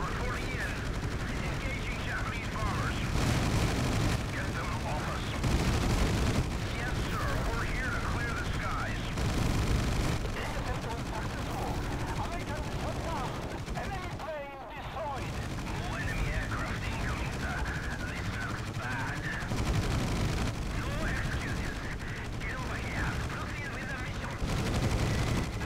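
Naval combat in the Battlestations Pacific video game, with continuous rattling machine-gun bursts and dull blasts layered over a steady engine drone for about twenty-five seconds, with a player's voice talking over parts of it.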